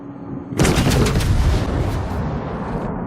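The main battery of the USS California, a US battleship in World of Warships, fires its shells. A sudden, loud, heavy boom hits after a short quiet and rolls on into a long rumbling tail.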